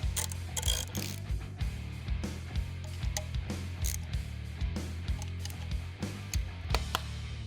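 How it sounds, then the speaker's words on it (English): A ratchet tightens bolts on an aluminum case during a 1993 Dodge W350 Cummins dually build, giving a close, continuous run of rapid metallic clicks with brief pauses between strokes. "you don't want to crank down on these bolts too much"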